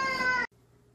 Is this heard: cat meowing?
yes